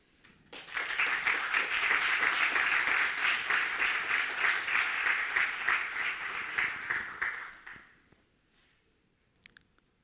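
Audience at a tech conference talk breaks into sustained, dense applause that swells quickly, holds steady for several seconds, then fades out, leaving a few scattered claps at the end.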